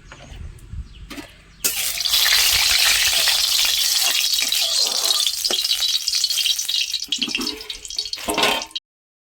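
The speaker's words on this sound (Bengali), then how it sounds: "কড়াইতে ঢেলে দেবো সর্ষের তেল।" Mustard oil poured into a hot wok breaks into a loud, close, hissing sizzle after a quiet start, crackling steadily for several seconds before cutting off abruptly.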